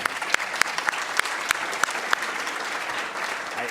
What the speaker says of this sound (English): let's have a round of applause for all of those presenters